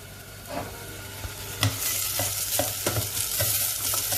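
A spoon stirs chicken in a hot frying pan for chicken parmigiana. Quiet sizzling runs throughout, broken by a series of sharp scrapes and taps against the pan, with a low burner hum beneath.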